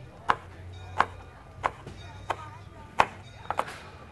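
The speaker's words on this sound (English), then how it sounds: "Now you can bunch them all nice tight together and just run your knife through them" A knife chops through a tight bunch of basil leaves on a board in a home kitchen: about seven sharp, close chopping thuds at an uneven pace, with a steady low hum under them and no speech.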